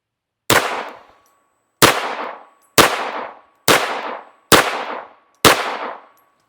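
Six loud, close pistol shots from a Beretta firing G2 Research R.I.P. 62 gr 380 ACP rounds come at a steady pace about a second apart. Each shot ends in a brief echoing tail, with no voices.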